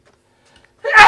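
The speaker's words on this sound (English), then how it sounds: "Hold on, I got to sneeze." One person sneezes once, a short, loud burst close up after near silence.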